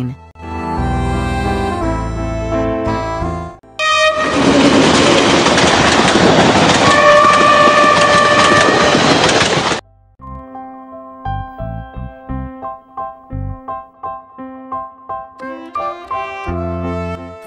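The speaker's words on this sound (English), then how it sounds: "Train." A train rumbles past loudly with clattering wheels and a horn blast, bracketed by music before and after.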